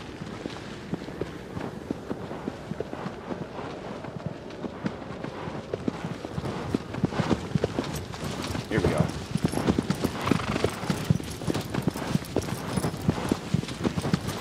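Horse hooves galloping in the video game Shadow of the Colossus, a steady rapid clip-clop that grows louder and denser midway, with constant game ambience and a voice-like layer underneath.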